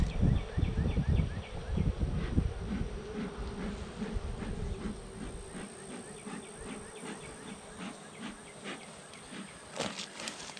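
Honeybees buzz around an open, healthy beehive during an inspection, a close, continuous droning hum with individual bees swelling and fading as they pass, and a few brief knocks near the end.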